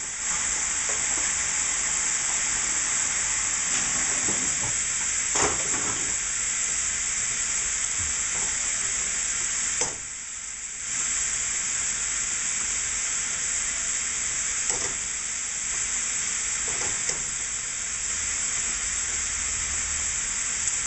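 Chicken and vegetable stir-fry with black beans sizzles steadily in a pan on high heat, a loud continuous frying hiss with occasional brief stirring scrapes and one short dip near the middle.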